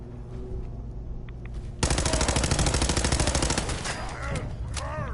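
Rapid automatic gunfire in Fallout 4 erupts after a quiet start and keeps going as a loud, steady burst of shots aimed at Paladin Danse, with faint background game sounds before it.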